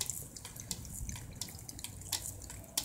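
Water spraying from a handheld sprayer while an animal laps at the stream, a steady hissing wash with faint dripping patter, a few sharper splashes near the end, close by.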